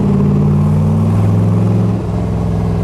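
A 1965 Chevrolet Corvette's fuel-injected 327 V8 idles loudly with a steady, deep rumbling burble, easing slightly toward the end; no voices.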